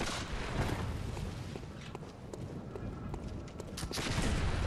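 A gunman enemy in Bloodborne fires off sharp gunshots, several muffled cracks scattered over a dense, noisy game soundscape at fairly low volume.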